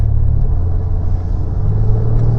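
A 1991 GMC Syclone cruises at about half throttle, its engine a loud, steady low drone and rumble heard from inside the cab, with no voices.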